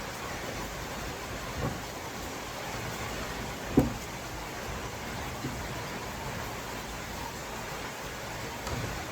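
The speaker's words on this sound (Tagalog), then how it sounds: "Umuulan. Sarap maligo." Steady rain hisses continuously, a dense even wash of noise with one brief sharper knock partway through.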